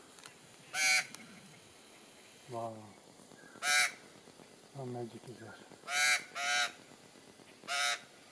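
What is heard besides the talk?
upset birds honking and quacking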